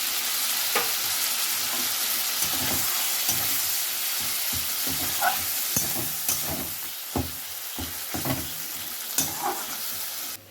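Spice paste hitting a hot pan for a vegetable curry, giving a steady loud sizzle with scraping stir strokes throughout, no voices.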